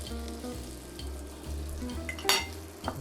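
Garlic sizzles in olive oil in a pan with a steady close frying hiss, as a low, faint background hum pulses and a couple of brief utensil clinks sound.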